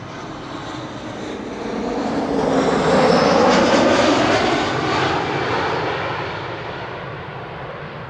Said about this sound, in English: That's the KLM preceding the Dreamliner.